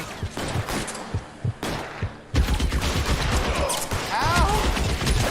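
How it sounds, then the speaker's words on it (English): Gunfire from L.A. Noire, bursts of rapid shots that start sparse, then become a dense, loud automatic rattle with crashing impacts. Game voices talk over the shooting. "Shooter has a machine gun."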